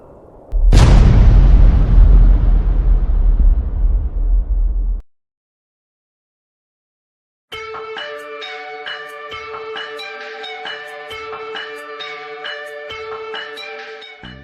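A loud cartoon explosion in an anime, caused by a liquid reacting in a character's stomach, bursts out with a sudden boom and a long rumbling roar, then cuts to silence before bright music starts.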